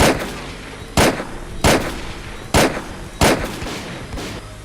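Five sharp shotgun blasts boom out in a video game at roughly even intervals, each a loud broadband crack with a short decaying tail over steady background ambience.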